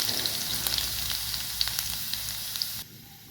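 Crushed garlic with cumin and mustard seeds frying in hot oil, a steady close sizzle with small pops that cuts off abruptly near the end.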